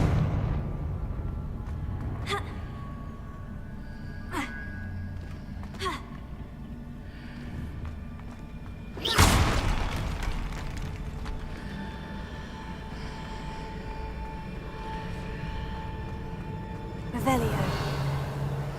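Confringo fire spell blasts in Hogwarts Legacy: several sharp bursts, then one loud explosive crack around the middle and another burst near the end, with a continuous game soundscape between them and occasional voice.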